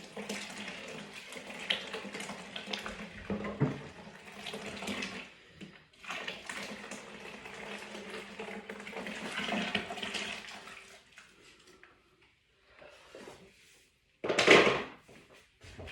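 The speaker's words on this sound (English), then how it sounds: "I'm going to add in some more hot water." Hot water gushes and splashes steadily into a bucket for several seconds while brewing stout, a close, hollow pouring sound that stops, followed by quieter handling noises and a brief loud splash.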